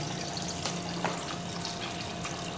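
Water is poured into a sump pit during a submersible pump control test, a steady broadband splashing and trickling with a few brief louder splashes, close and continuous without talk.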